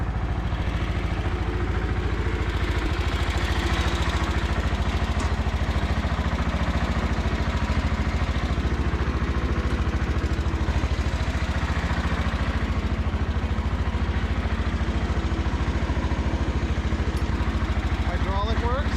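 An MTD 990 lawn tractor engine runs steadily during a short test drive, a loud, unbroken low rumble with mechanical clatter that holds at a constant level throughout.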